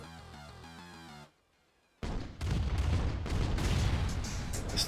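A flame unit fires in the real-time strategy game Command & Conquer: Tiberian Dawn. Music gives way to a short silence, then a loud run of harsh, overlapping bursts and crackling blasts.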